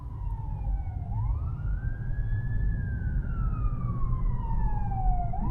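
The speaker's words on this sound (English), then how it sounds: "Sounds like he's coming closer." An emergency siren sweeps up and down, growing slightly louder as it nears, above heavy road and engine rumble.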